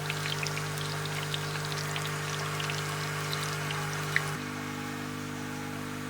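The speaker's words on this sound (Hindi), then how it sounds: "और इसे तब तक हम फ्राई करेंगे जब तक इसका कलर चेंज ना हो जाए या गोल्डन ब्राउन ना हो जाए" Potato pieces for Kashmiri dum aloo frying in oil over medium heat: a steady, close, crackling sizzle with dense popping bubbles and a constant low hum underneath, no voices.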